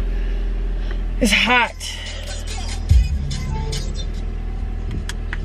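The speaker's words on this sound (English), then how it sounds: "So I'm in the car, just about ready to go." A car interior with the engine idling gives a low, steady rumble under a voice, with a brief rise of speech and a soft thump partway through.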